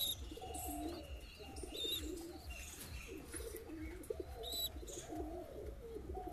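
Madras high-flying pigeons coo in a breeding cage, soft repeated throaty coos in an irregular rhythm close by, with a few faint chirps and a brief wing flutter mixed in.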